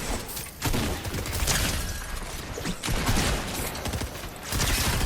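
A charge shotgun fires in a fast-paced shooter game, giving loud, heavy blasts at intervals of about a second amid continuous gameplay noise and clatter, with a player talking over parts of it.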